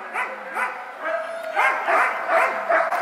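Several husky sled dogs at a mushing camp bark and yip in quick, overlapping bursts, moderately close, with a rhythmic chorus of excited barks and a few whines.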